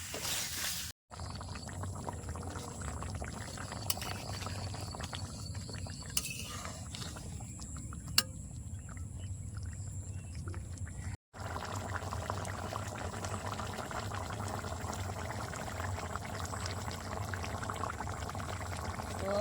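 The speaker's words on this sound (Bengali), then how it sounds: "এখন এর মধ্যে জল দিয়ে দেবো" Meat curry cooked in a rustic village style, with water poured in and a steady bubbling boil that runs on and on, broken by two short gaps and a few sharp ticks.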